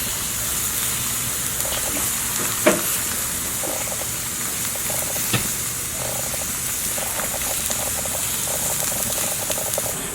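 Melted butter sizzles on a ribeye steak over a flaming grill, a steady broadband crackle and hiss with a few sharp pops, close and fairly even throughout.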